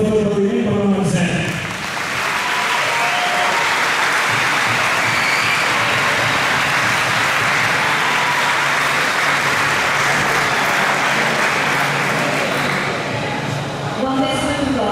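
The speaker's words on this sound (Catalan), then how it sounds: "Un fort aplaudiment per la Mercè." A crowd at a Festa Major proclamation ceremony in Navàs gives a long, loud, sustained round of applause for the festival speaker, dense steady clapping that swells and holds for about twelve seconds, with brief voices at the start and end.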